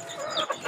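A rooster clucks briefly inside a chicken coop, a short, close burst of fowl calls with no talking.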